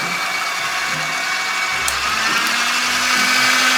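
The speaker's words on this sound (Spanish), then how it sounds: "Y ahora vamos a ir a la batidora." A small electric mixer motor whirs steadily at high speed while making Nutella pancake batter, a constant close drone with faint low rumbles underneath and no talking.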